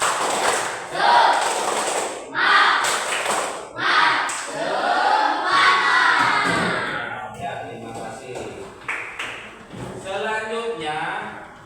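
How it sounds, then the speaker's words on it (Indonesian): A class does the rhythmic 'tepuk semangat' spirit clap, with bursts of patterned clapping and chanting voices over about twelve seconds. A teacher's voice leads between the bursts. "Tepuk semangat satu kali lagi sebelum kita tutup."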